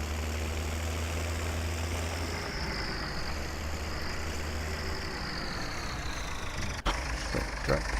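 A tractor engine in Farming Simulator 17 drones steadily at a low idle-like rumble, close and constant, with a brief mechanical clunk near the end.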